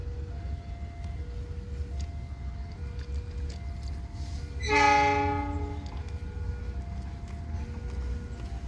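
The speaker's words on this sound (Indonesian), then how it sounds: "Kereta api Ranggajati berangkat dari stasiun Kutoarjo." A train horn sounds once, loud and harmonic, over the steady rumble of the Ranggajati passenger train departing Kutoarjo station along the tracks.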